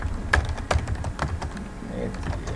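Typing on a computer keyboard makes quick, irregular clicking keystrokes at close range, while low background noise runs underneath.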